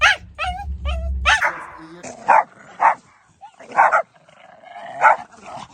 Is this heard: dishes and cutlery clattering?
no